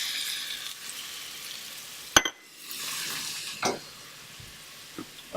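Sweet potato hash cooking in a pan, a bright sizzle fading in and out with a sharp utensil clank and a few scraping stirs, close and moderately loud.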